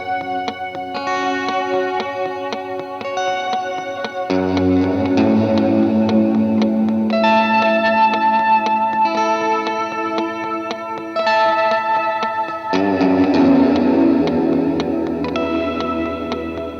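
Electric guitar chords looped through a TC Electronic TonePrint reverb pedal, big lush washes of sustained, shimmering tone layering and changing over time, loud and alone without talk.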